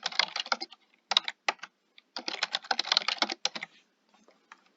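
Rapid keystrokes on a computer keyboard in several close, clear bursts with short pauses, as a password is entered while signing up for a sight-reading website, no talking.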